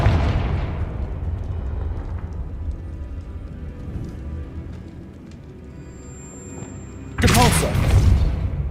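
Confringo spell blast in Hogwarts Legacy: a loud sudden explosive burst arriving late after a stretch of low rumbling game ambience.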